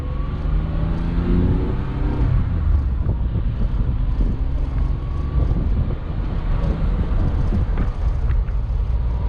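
Porsche 996 Cabriolet on the move, with a steady, loud rush of cabin wind noise and a low engine and road drone throughout, no talking.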